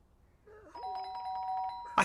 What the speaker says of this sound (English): The doorbell went again